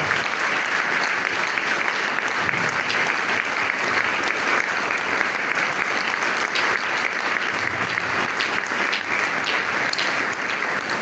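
Sustained applause and acclamation from a gathered crowd paying tribute at a funeral wake, a dense, steady roar of clapping that holds evenly throughout without pause.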